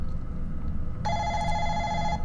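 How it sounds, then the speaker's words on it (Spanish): A telephone rings suddenly after a quiet hum, its bright, steady electronic tone starting partway through and sounding close and clear over low room noise. "La atmósfera fría del recinto de pronto fue inundada por el ruido del teléfono."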